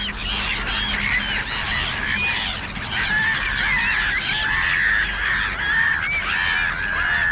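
A dense crowd of black-headed gulls, crows and pigeons at a feeding spot keeps up loud, continuous overlapping squawks, caws and shrill cries close by, with no pauses.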